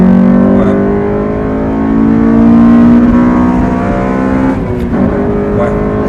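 A Honda Civic Type R FN2 engine revving high on a short gearbox, a loud, sustained buzzing engine tone that holds near the top of its range, then dips briefly before continuing.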